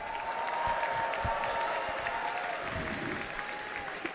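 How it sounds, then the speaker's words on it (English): An audience cheers and applauds for the Megaminx finalists at the Rubik's WCA World Championship 2025 finals. The clapping is steady and moderately loud, with a faint sustained tone running underneath. "Let's give a cheer for our Megaminx finalists"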